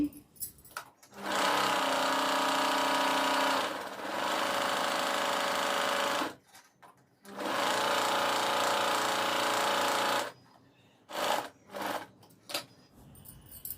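A sewing machine stitches the folded back part of a blouse in long steady runs of loud, even motor whir, stopping briefly between runs, with short stuttering bursts near the end.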